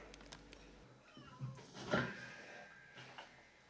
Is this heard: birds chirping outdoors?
no